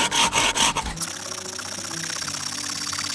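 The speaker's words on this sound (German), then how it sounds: "Wir sägen einfach mal hier rein." Rapid back-and-forth strokes of a bushcraft hand saw rasp through wood outdoors, loud and close, with a few heavy strokes at the start before settling into a steady, quicker rhythm.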